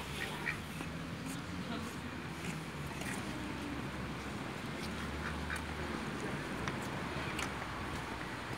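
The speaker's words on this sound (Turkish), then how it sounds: "Bembeyaz ördekler" White ducks at a park pond quacking now and then, faint against steady outdoor background noise throughout.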